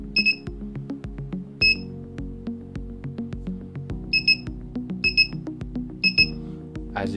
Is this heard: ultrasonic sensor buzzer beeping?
yes